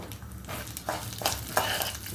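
Mustard seeds with chana dal and urad dal tempering in hot oil for an Andhra curry, crackling and spluttering in a steady sizzle with sharper pops every half second or so, close and fairly loud.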